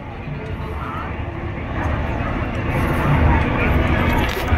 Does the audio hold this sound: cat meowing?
no